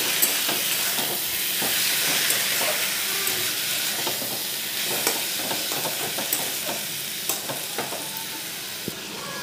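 Boiled kharkol leaves sizzle steadily as they fry in a pan, with a continuous hiss and irregular scraping clicks of a spatula stirring them, close and with no talk.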